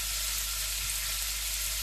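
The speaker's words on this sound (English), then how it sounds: "my little butter going into it now." Steady close sizzle of a hot pan of sweet and sour chicken as butter goes in, an even broadband frying hiss with no voices.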